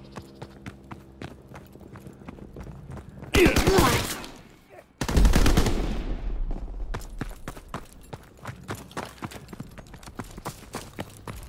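Gunfire in a World War II battle in Call of Duty: WWII: rapid rifle and machine-gun shots crackling steadily, broken by two loud close blasts with rumbling tails in the middle.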